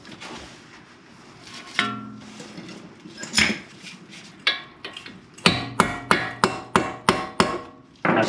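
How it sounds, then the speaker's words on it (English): A hammer strikes a metal punch to free the front axle of a 2013 Ford Escape during a wheel bearing replacement. Sharp metallic clanks come scattered at first, then settle into a quick, regular series of ringing blows up close. "I just took a punch with the hammer"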